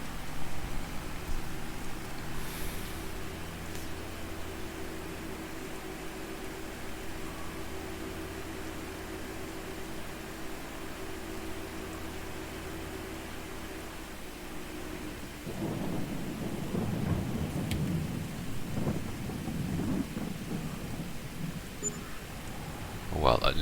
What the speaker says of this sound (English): First bit of rain I've seen.